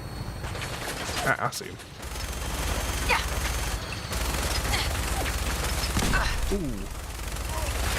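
Gunfire in Fallout 4 crackles through a game battle, dense bursts of shots layered over constant background noise while someone talks over it.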